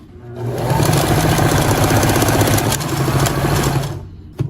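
A sewing machine runs steadily with fabric under the needle and the presser foot removed, giving a loud, close mechanical whir with a rapid rhythmic clatter that spins up and winds down over a few seconds.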